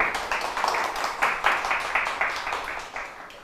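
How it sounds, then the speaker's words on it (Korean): An audience at a photography seminar claps to welcome a guest speaker, a fairly close, even round of applause that carries on for several seconds and gradually softens. "큰 박수로 환영해 주십시오."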